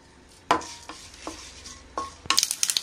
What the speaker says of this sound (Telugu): తాలింపు చిటపట్లాడుతుంది అంటే వేగినట్టే చూడండి